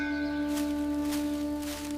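A temple bell rings in the distance with a sustained, steady metallic hum and soft repeated strikes, heard alone over a quiet outdoor background.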